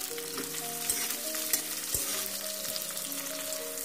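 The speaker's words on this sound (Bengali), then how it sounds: "ক্যাপসিকাম কুচি দিয়ে আবার হালকা নেড়ে নিচ্ছি।" Chopped capsicum stirred in hot oil with onion, a steady close sizzle broken by several sharp utensil scrapes and clanks against the pan, no voices.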